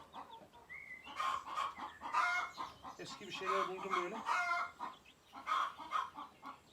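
Chickens cluck and crow near a newly built coop for fresh chicks, a steady run of close, busy calls with a person's voice briefly speaking.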